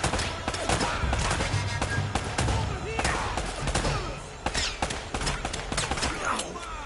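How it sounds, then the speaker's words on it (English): Enemy gunfire in an Uncharted game, rapid sharp shots and bursts crackling steadily throughout at close, loud range, with some voices mixed in. "Can you stop shooting me, please?"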